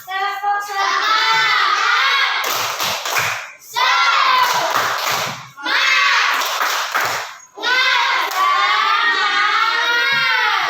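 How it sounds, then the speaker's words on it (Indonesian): A school group of children performs a rhythmic spirit clap routine, chanting loudly together in close, energetic bursts, with quick clusters of hand claps between the shouted phrases. "Bagaimana tepuk semangatnya?"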